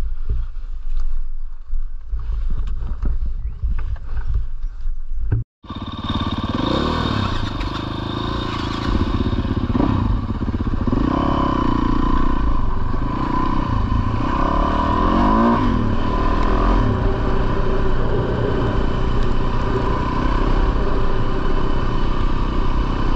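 Motorbike ridden near Lal Lal, Victoria, its engine rumbling and revving steadily up close for a long stretch after a sharp cut near the start, with some rattling mixed in.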